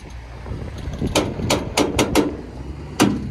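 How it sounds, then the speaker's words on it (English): A series of sharp metallic clanks and rattles from a trailer over a low truck engine rumble, irregular knocks bunched together, then one more bang after a short gap. "Trailer makes a lot of noise."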